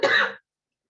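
A single short, sharp cough sounds close and fairly loud, cut off abruptly into silence.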